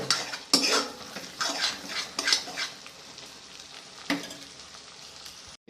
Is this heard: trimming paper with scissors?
no